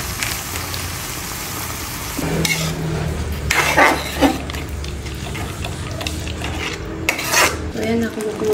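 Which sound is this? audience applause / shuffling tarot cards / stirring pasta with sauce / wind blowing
stirring pasta with sauce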